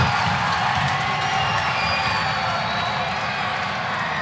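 A crowd at a Cameron Indoor women's college basketball game between Virginia and Duke cheers loudly and continuously, a dense roar with shouts and whoops blending together throughout.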